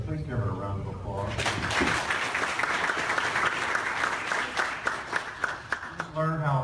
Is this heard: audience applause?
yes